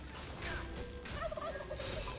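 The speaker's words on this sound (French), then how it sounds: "Et un joli dindon de JCV Gamer." A turkey gobbles in the video game Titan Quest, a short warbling call at moderate volume over the game's ambient background noise.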